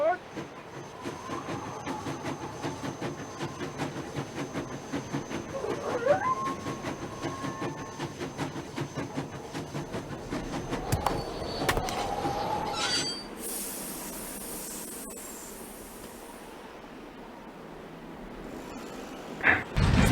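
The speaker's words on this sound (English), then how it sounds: "Sounds like the train's leaving." A train pulls out of a station in a Nancy Drew mystery game, with rumbling wheels and a loud metallic squeal that build, then give way to a hiss and quieter settling noises.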